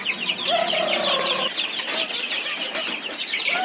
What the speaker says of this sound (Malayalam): ചെറിയൊരു കോഴി ഷെഡാണ്.